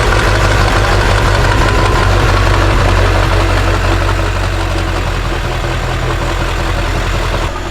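Modified Ford 7.3 diesel truck engine running with a deleted system, upgraded fuel system and sewer-pipe exhaust, a loud, steady idle with deep low rumble and rough knocking clatter, close and continuous with no talk.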